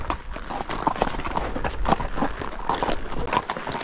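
Horses' hooves clip-clop on a trail ride through countryside, a near, uneven, repeating patter of hoof strikes over a steady outdoor background.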